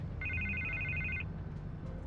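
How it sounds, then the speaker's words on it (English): A telephone in Batman: The Telltale Series rings once with a bright trilling electronic tone lasting about a second, then cuts off, over a low ambient hum. "I can't get the phone to stop ringing"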